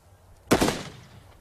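A single sharp shot fired by Royal Marines, close and loud, with a brief decaying echo.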